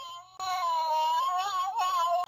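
A human voice imitates a cat fight with a single drawn-out, wavering yowl that rises and falls like a cat's caterwaul. It is loud and close, lasts about two seconds and is heard alone.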